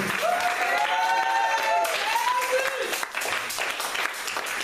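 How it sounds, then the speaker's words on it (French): A church congregation applauds loudly and continuously during a worship service, dense clapping mixed with cheers and a voice calling out over it. "Acclame très fort pour le Seigneur."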